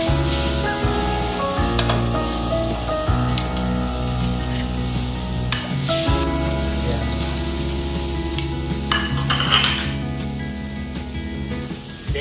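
A kingfish fillet sizzles steadily in a hot pan for the whole stretch, a continuous frying hiss with soft crackles, over a steady tonal hum in the background.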